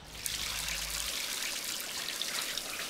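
Shower spray of running water, a steady hissing trickle and splatter that continues alone throughout, with a low hum cutting off about a second in.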